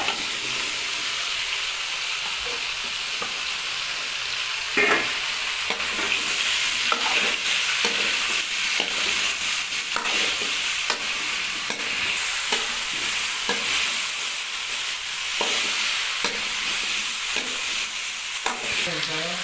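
Potatoes frying in oil in a pan, a steady hissing sizzle broken by repeated scrapes and clinks as a utensil stirs them, close and continuous.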